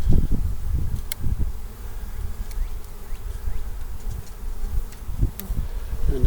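Bees buzzing around a beehive built inside a water meter box, a steady close insect hum with occasional louder fly-bys.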